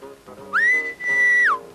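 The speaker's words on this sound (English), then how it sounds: "Ah, the whistle. Must be knocking off time." A work whistle in a 1976 Fred Basset cartoon sounds two long, loud, steady tones in quick succession, each with a sharp rise and a falling tail, over a soft low background.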